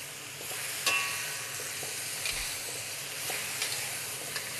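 Scallions stir-frying in a wok over a very hot BlueStar cooktop, an even, close sizzle with intermittent spatula scrapes and taps throughout.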